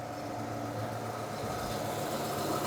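A Mitsubishi Pajero engine with a new timing belt, water pump and drive belt idles steadily, a smooth low hum recorded close with no talking.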